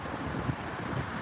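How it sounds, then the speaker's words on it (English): Wind buffets the microphone outdoors in Hibiya Park, a steady low rumbling rush that holds for about a second with no voices. "Just windy."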